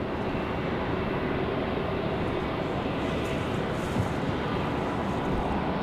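A United airliner takes off from runway 23 right at Raleigh-Durham International, heard as a steady, loud, broadband jet roar that holds evenly throughout.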